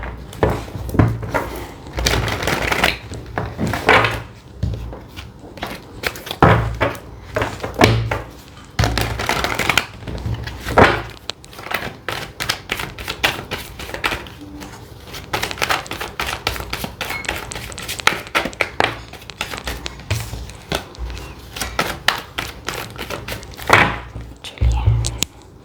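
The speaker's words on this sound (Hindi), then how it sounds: "यहाँ से एक डेक में क्लैरिफिकेशन के लिए शफल कर लूँगी" A deck of tarot cards being shuffled by hand, repeated quick riffling and tapping bursts in an irregular rhythm over about twenty-five seconds, close and fairly loud.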